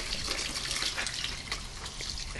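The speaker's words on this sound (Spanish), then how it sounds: "Y Mali le va a echar agua." Water splashes from close by onto potted mango and avocado seedlings, a steady hissing, trickling pour lasting a couple of seconds.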